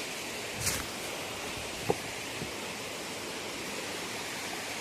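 Faint, steady rush of falling water, a soft continuous hiss with no voices, and one brief tap partway through.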